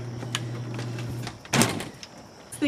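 A washing machine door being pushed shut in a home laundry, one firm thud-and-latch clunk near the middle against a low steady hum, with a couple of lighter knocks around it.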